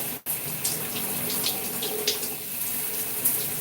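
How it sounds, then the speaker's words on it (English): Cold water runs steadily from a tap through 4c natural hair during a wash, a continuous close splashing rush with small irregular spatters and no talking. "I'm just letting the water run through it"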